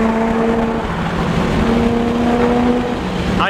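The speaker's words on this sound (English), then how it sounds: "I also can't get over how good this car sounds. God, it sounds good." A BMW E30 with an LS1 V8 engine swap runs loud and steady close by, a continuous deep engine drone with sustained tonal harmonics holding throughout, no one talking over it.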